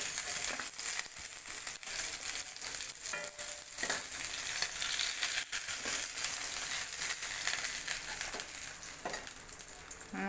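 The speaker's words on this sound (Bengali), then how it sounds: "এই মাছগুলো আমার ভাজা হয়ে গেল, পুরো লাল লাল করে ভেজে নিয়েছি" Pieces of rui fish fry in oil in a pan, a faint, steady crackle and sizzle with occasional soft scraping or stirring noises and brief sharper pops, no talking.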